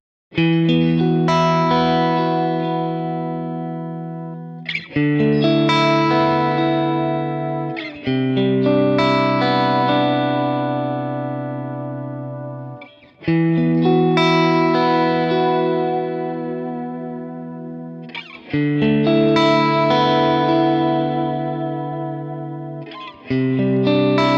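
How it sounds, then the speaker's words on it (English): Overdriven electric guitar strums chords through a Neural DSP Quad Cortex capture of an Amplified Nation Overdrive Reverb amp; chords ring out and sustain, with gaps between phrases; loud, gritty, and up close. "So I've captured my Amplified Nation Overdrive Reverb,"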